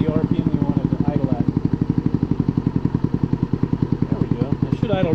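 Up close, a stock GY6 150 scooter engine with a CVK carburetor idles as its RPM is adjusted, chugging in a loud, even, rapid pulse throughout, with a voice speaking over the running motor.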